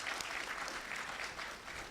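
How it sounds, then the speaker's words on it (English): An audience at a keynote panel discussion claps for a departing governor, a steady, moderately distant patter of many hands that holds evenly throughout. "A big applause for him"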